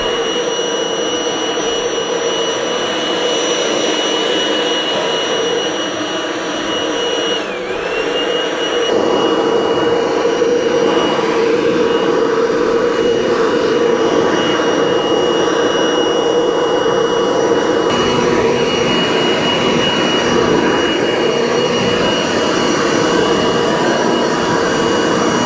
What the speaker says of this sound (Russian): Вот с помощью такого пылесоса, бюджетный пылесос, но отлично справляется со своей задачей